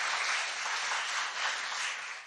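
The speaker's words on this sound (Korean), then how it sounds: "이야, 박수." A small group bursts into brief applause during a Korean political talk discussion, a dense burst of clapping that stays steady and then tapers off at the end.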